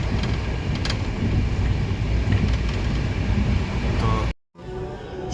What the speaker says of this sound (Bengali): আমাদের ট্রেন হুস হুস করে ছুটে চলছে